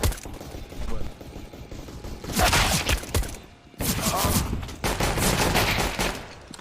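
P2K pistol fire in a video game: bursts of sharp shots crackle in dense clusters against background game noise, loud and close, with a brief gap midway and a voice partly underneath.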